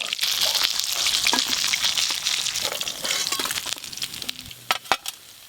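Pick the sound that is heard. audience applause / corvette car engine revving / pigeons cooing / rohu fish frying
rohu fish frying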